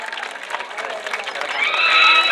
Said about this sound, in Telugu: మన ఫస్ట్ విన్నర్స్ కి గట్టిగా చప్పట్లు కొట్టి మీరు ఎంకరేజ్ చేయాలని కోరుతున్నానండి.